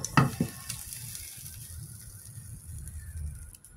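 Chopped garlic hits hot oil in a pan with a quick clatter, then settles into a soft, steady sizzle that stays fairly quiet and close.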